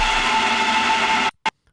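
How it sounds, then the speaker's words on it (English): A crunchy, distorted, dense processed sound runs loud and continuous, then cuts off abruptly, followed by one short burst and silence. "So it creates a really cool crunchy effect."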